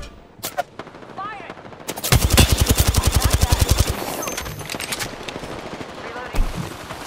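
Automatic gunfire in the Apex Legends video game: a few scattered shots, then a long, rapid, loud machine-gun burst that trails into more shots, up close.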